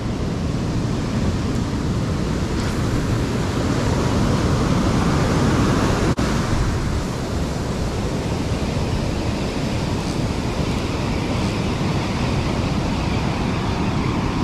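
Big ocean surf breaks on a beach, a dense continuous roar of crashing and rushing water, loud and close, steady throughout with no talking.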